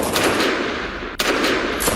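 Gunfire during a shootout in Washington near the White House: a sharp single crack stands out against a loud, dense background of noisy blasts and roar, with no voices.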